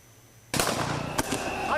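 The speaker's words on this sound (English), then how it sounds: "police firing on thousands of unarmed protesters" Police gunfire at protesters in Kenya bursts in suddenly after a quiet start, with a loud crack and continuing rough noise of crowd and shots, captured in chaotic news footage.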